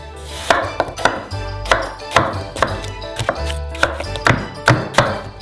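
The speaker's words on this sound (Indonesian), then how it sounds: "Potong pulpnya bersih menjadi beberapa bagian." A knife chops peeled pear flesh into pieces on a board: a steady run of about a dozen crisp, close thunks, evenly spaced and loud, with no talking.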